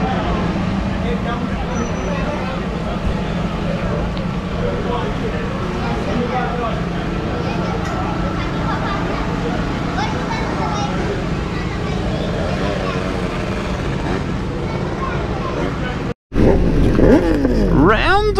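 A tuned drag-racing motorcycle launches on a pass, and its engine drone holds steady under a voice before a sudden cut. After the cut comes a loud rising whine of revs through the gears.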